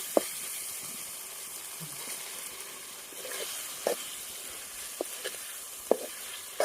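Ginger paste frying in a pan, a quiet steady sizzle and hiss with a few faint clicks and taps of stirring scattered through, no one speaking.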